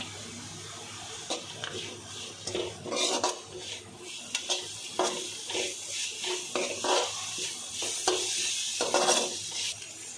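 Finely chopped carrot and cabbage stir-fried in a pan for pasta, with a steady light sizzle under repeated scraping and clinking of a spoon against the pan.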